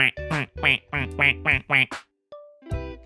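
A person imitating a duck, giving a rapid series of six nasal quacks in a row, loud and close, followed by a pause and a brief final quack-like sound.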